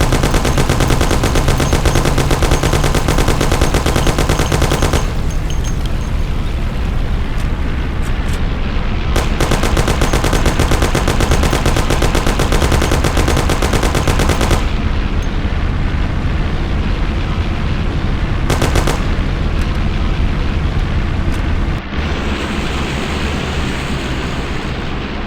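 Rapid gunfire from the 2002 video game Mafia, loud and sustained in dense automatic bursts and volleys for about 25 seconds, with brief pauses and a car engine droning beneath.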